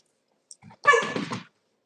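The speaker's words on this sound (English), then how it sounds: "All my dogs do is fight." Dogs play fighting indoors: a faint yip, then a short, close, gruff growling bark lasting under a second, with silence around it.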